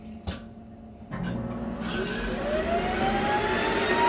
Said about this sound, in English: So it's gonna bore that hole out.